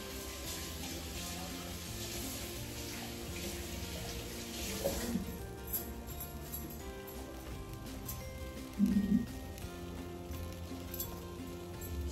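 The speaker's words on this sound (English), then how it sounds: "So I'm just going to rinse out some fresh thyme here." Fresh thyme is rinsed under a running kitchen tap, a steady soft stream of water splashing in a sink, fairly quiet and continuous with a brief louder splash near the end.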